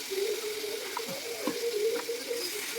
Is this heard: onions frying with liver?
yes